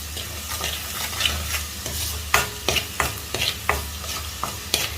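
A spoon stirs a green apple pickle mixture in a pan, giving repeated sharp scrapes and taps over a low, constant sizzle, close and clear with no talking.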